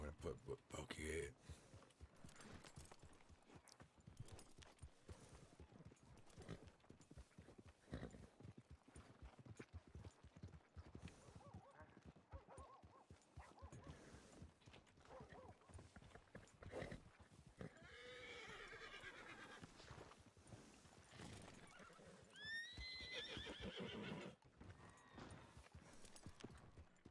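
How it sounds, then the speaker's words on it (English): Horses in a Wild West roleplay video game whinny and neigh while hooves clip-clop unevenly, several animals close by, with someone talking over them at times. "God damn, there's so many damn horses here."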